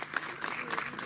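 Audience applause at a school award ceremony where students are called up for certificates, a brief burst of steady, moderately loud clapping from the crowd with no talk over it.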